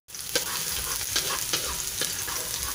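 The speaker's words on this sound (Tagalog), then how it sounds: "Mainit ang mantika, kaya ilagay na natin itong ating ahos." Garlic frying in hot oil, a steady loud sizzle throughout, with faint clicks and stirring taps over the top and no talking.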